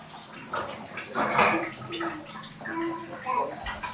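A small child plays and splashes in bath water, with irregular sloshing and gurgling bursts close by, mixed with soft voices.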